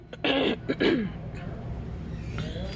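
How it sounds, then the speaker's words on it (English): A couple of sharp, throaty coughs up close, followed by quiet room noise. "I hate coughing."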